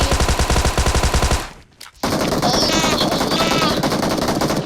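Gunfire in the PUBG video game: a loud, rapid automatic burst of evenly spaced shots, then a brief near-silent gap before another dense stretch of shooting with sharp echoing cracks.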